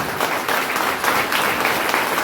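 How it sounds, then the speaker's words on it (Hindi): A seminar audience in Udaipur claps hard and continuously, a thick, even wash of applause that stays loud and close for the full couple of seconds. "एक बार जोरदार वाली ताली बजाएं।"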